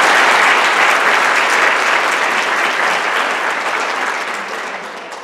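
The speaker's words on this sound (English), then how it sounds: "We could offer one more round of applause for Ms. Sarah Madonna" Loud, dense audience applause at a junior honor society induction ceremony after a national anthem rendition, a full wash of clapping that starts strong and slowly tapers off toward the end.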